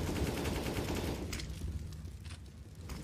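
AK rifle fire in a Counter-Strike match, a dense continuous rattle of rapid shots under steady background game noise, fading somewhat toward the end, with no talking.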